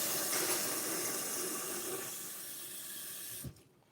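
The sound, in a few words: cold water running from tap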